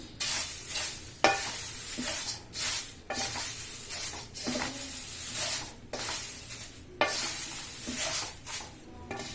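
Drumstick (moringa) leaves dry-roasting in a pan on low heat, stirred over and over with a spatula, giving repeated scraping, rustling strokes over a soft steady crackle, close and moderately loud, with no talking.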